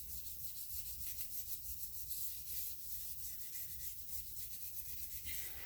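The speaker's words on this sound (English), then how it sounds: "I'm kind of almost damp sanding it" Steady, rhythmic damp sanding of an auto body surface by hand with sandpaper, a soft scratchy back-and-forth stroke repeated close by.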